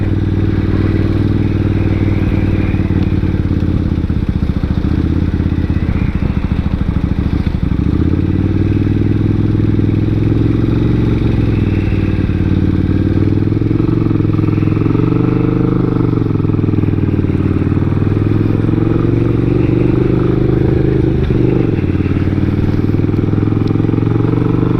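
A 1999 Suzuki Intruder 800 motorcycle rides at speed along a highway, its engine droning loud and steady with wind rush and slight pitch shifts throughout, without speech.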